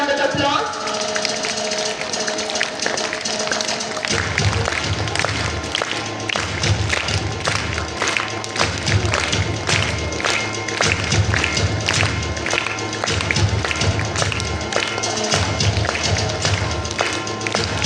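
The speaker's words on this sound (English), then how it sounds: "Please give a big round of applause." Applause from a school Republic Day audience greeting a silver medal and certificate presentation, starting a few seconds in and running as dense, continuous clapping with a low thumping underneath, mixed with an announcer's voice.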